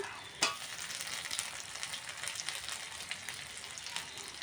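Green chili paste and cumin paste drop into onions browning in oil, giving a sharp burst then a steady crackling sizzle.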